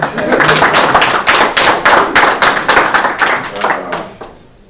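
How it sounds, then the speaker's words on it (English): An audience at a university book talk breaks into brisk clapping that is loud, close and dense. It fades out near the end, and a few voices can be heard under it. "Oh, you mean we can clap?"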